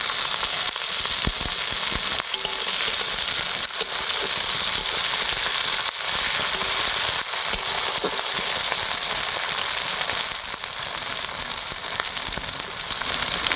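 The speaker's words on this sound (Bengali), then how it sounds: "এবার আমি ওখানে টমেটোটা দিয়ে দিচ্ছি" Loud, dense crackling and sizzling of tomatoes frying in hot oil continues throughout, with occasional stirring scrapes underneath.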